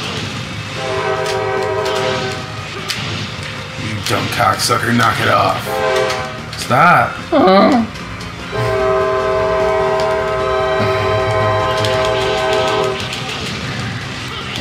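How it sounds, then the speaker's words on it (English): A train rolls past on a railroad track right beside a home, loud and close, with sustained horn blasts and rumbling wagons, while someone shouts over it. "This is what happens when you live right next to a railroad track."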